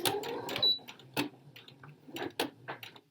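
A sewing machine runs a back stitch on a jacket in short, irregular bursts of clicking and ticking, separated by quiet gaps, faint and close, with no talking.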